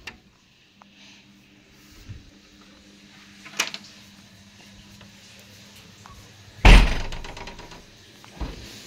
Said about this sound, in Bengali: দরজাটা হাওয়াতে পড়লো বলে খুব জোরে আওয়াজ।